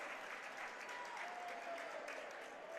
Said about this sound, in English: Followed by a round of applause for his dancing skills.